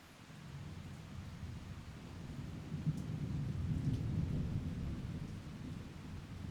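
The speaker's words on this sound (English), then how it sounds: "It rained all evening" Steady rain with low rumbling thunder in the Nepal Himalayas, a broad continuous wash that swells louder toward the middle and stays constant with no voices.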